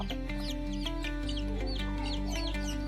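Free-range desi chickens and a rooster cluck repeatedly on a poultry farm in Nagpur, with short overlapping calls over a steady background hum and droning tones.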